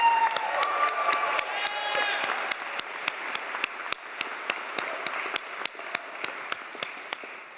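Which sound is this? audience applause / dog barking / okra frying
audience applause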